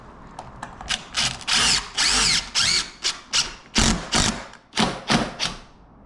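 A power drill drives screws into an exterior door frame, with repeated short loud whirring bursts that rise and fall in pitch, separated by brief pauses, close and clear with no talking.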